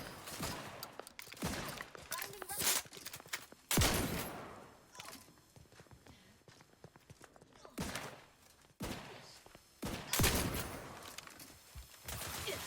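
Bursts of gunfire in The Outer Worlds 2, irregular clusters of sharp shots and rapid volleys with heavy impacts and brief lulls between them.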